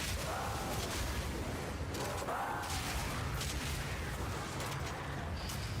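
Grenade blasts from the Path of Exile 2 action game, a Deadeye ranger build, burst in a dense stream of overlapping booms and crackles with no pauses, loud and constant, alongside faint in-game tones.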